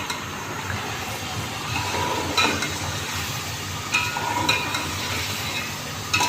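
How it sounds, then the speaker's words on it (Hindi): Tomatoes, green chillies and dried plums fry in a pan for chicken biryani, a loud constant sizzle broken by occasional scraping stirs of a spoon, up close. "इस स्टेज पे हम हरी मिर्ची शामिल करेंगे अपनी। और ये आलू बुखारे, इसको भी अच्छी तरह से भून लेंगे।"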